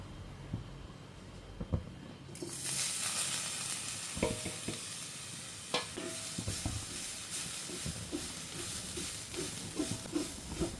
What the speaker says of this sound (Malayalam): തേങ്ങ ജീരകം ഉലുവ വെളുത്തുള്ളി ചെറിയുള്ളി പിന്നെ കുറച്ച് കറിവേപ്പിലയും കൂടി ഇട്ടിട്ട് വറുക്കട്ടോ